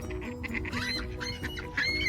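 Ducks call outdoors in a short burst of nasal, honking quacks overlapping one another at moderate distance over a steady background hum.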